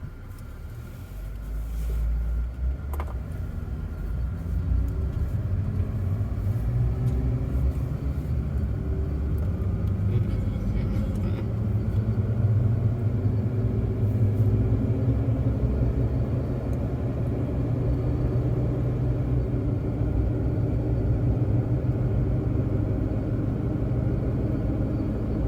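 A car cruises the scenic Foothills Parkway near Cosby and Townsend, Tennessee, heard from inside as a steady, even engine and road rumble that holds for the whole stretch without any talk.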